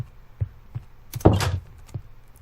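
A wooden door in Minecraft 1.9 opens and shuts, a few soft footstep taps followed by one sharp creaking swing and thud, close and clear.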